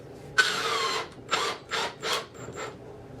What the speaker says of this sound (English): So I'm going to attach the rest of my screws, and you can see that I've split my wood here a little bit,